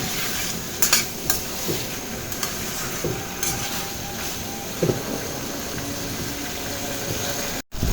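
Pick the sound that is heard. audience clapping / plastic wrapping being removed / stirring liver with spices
stirring liver with spices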